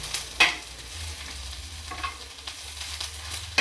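Onions for a dhaba-style egg curry frying in oil in a pan while being stirred, giving a steady close sizzle with occasional scraping strokes of the spoon, with no talking.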